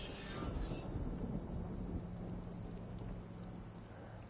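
Heavy rain pours steadily with a low rolling thunder rumble during a thunderstorm in the video game Horizon Forbidden West, a continuous dense wash with no voices.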